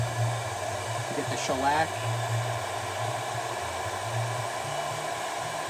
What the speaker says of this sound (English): we got a heat gun here and heat up the back of the pad.